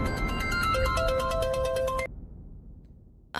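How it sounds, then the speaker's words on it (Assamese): A mobile phone plays a bright, melodic ringtone for about two seconds, then cuts off abruptly into near silence before a brief burst of sound at the very end. "প্ৰসেনজিতে ফোন কৰিছে"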